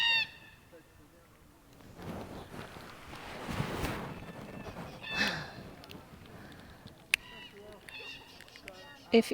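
Harsh, wailing calls of black cockatoos pass overhead amid gusty wind noise, rising and fading as the flock moves, with someone speaking partway through.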